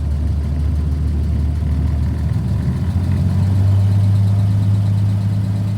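A 1949 Chevy engine idles steadily in cool weather with a deep, loud, continuous rumble, and its low drone firms up slightly partway through, with no voices over it.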